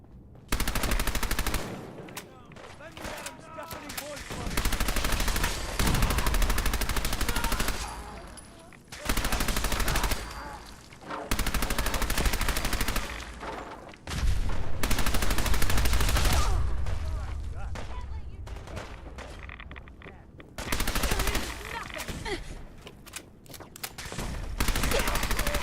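Radiation guns blasting in a Fallout 4 fight, loud bursts of rapid weapon fire that start and stop in several clusters with quieter lulls between them, voices talking over parts of the action.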